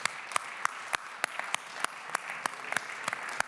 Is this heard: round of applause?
yes